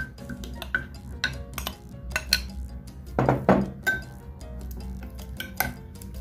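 A spoon clinks and scrapes against a bowl while paneer is mixed, giving irregular sharp taps and a short burst of heavier stirring, close and fairly quiet.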